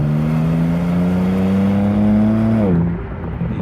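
A 2024 BMW M2 pulls hard with a loud, steady engine note rising in pitch for over two seconds, then drops sharply as it shifts or eases off, heard from inside the cabin.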